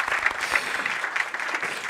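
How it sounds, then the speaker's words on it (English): An audience applauds steadily, a dense patter of many hands clapping at an even level throughout. "we can give them an applause."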